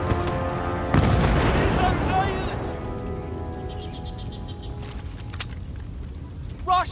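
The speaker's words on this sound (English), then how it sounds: "They hit our tanks with those damn AT guns!" Anti-tank gun hits on tanks in the war shooter Battlefield: Bad Company, a heavy booming impact followed by a long rumbling decay and lingering battlefield din, with a voice speaking over it.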